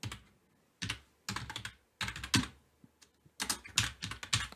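Close computer keyboard typing in quick bursts of clicky keystrokes separated by short pauses, with no voices.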